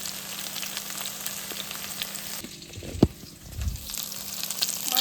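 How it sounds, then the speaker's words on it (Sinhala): Chicken and potato pieces fry in oil with a close, steady sizzle. A sharp clink from stirring cuts in midway, followed by a low scrape before the frying crackle rises again. "මම මස් ටික අල ටික බැදීගෙන යනවා."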